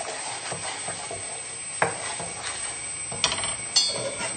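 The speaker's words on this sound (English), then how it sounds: "we'll just stir the milk in" A spoon stirs milk into a simple sauce in a pan for a salmon tagliatelle, with a soft continuous scraping and gentle sizzle, broken by three sharper knocks of the utensil against the pan.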